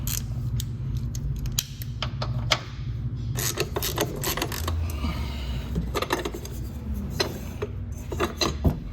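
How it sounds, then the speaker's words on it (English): A 3/8-inch ratchet with a 15mm socket turns bolts on a BMW 5 Series during an A/C blower replacement, giving close, repeated clicking ratchet strokes with metallic clinks and rattles throughout. "these two bolts are going to be a 15mm socket. I'm using a 3/8 with a ratchet."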